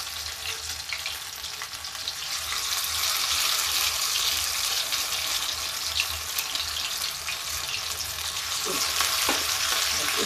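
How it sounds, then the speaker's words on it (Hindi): Pumpkin kofte coated in rice flour shallow fry in oil with a steady, moderately quiet sizzle and crackle, hissing continuously throughout with a couple of faint clinks near the end. "ये मेरा शैलो फ्राई हम कर रहे हैं"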